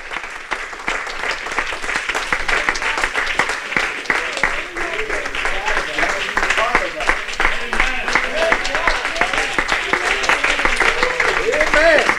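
A church congregation applauding after a baptism, many hands clapping in a loud sustained burst that continues steadily throughout.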